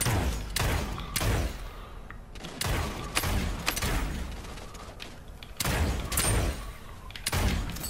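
Gunfire cracks in the Realm Royale battle game, heavy repeated bursts of loud booming shots in irregular clusters with short gaps, close and punchy, with no talking over them.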